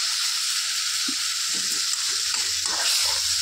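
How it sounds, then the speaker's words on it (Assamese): Fish head curry with khar bubbles steadily in a pot, a loud, close and constant simmering hiss with soft irregular plops. "এতিয়া ধুনীয়াকৈ উতলি আছে"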